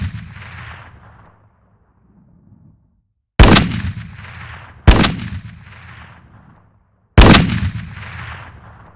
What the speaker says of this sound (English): here is what the gun sounds like from the files of the game